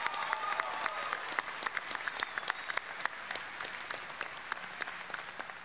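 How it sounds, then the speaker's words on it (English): Sustained audience applause fills a large event hall at a BlizzCon 2010 presentation on Cataclysm cinematics, dense steady clapping with a few louder claps standing out, no voices on top. "if you could just give a big hand to those guys out there, I'd really appreciate that"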